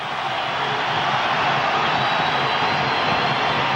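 A 1985 college basketball crowd at Illinois State versus Bradley roars steadily and loudly in an indoor arena, a dense, unbroken wash of cheering voices.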